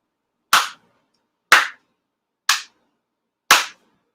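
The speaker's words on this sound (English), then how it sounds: "Chido Haide, 4 sincere claps" Four sincere hand claps during a Konko faith service, evenly spaced about a second apart, each a crisp, loud single clap ringing out alone in an otherwise silent room.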